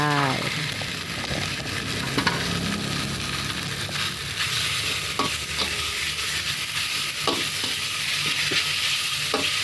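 Pork stir-frying in red curry paste with young coconut shoots, steady loud sizzling with repeated scrapes and clacks of a spatula against the pan throughout.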